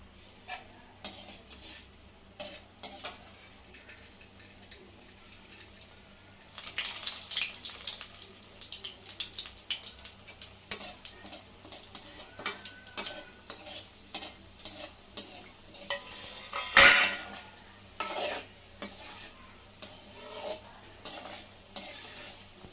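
A ladle stirring gulab jamun batter between batches of frying: steady scraping and swishing strokes over a constant hiss of hot oil, growing busier and rhythmic in the second half, with one sharp clank near the end.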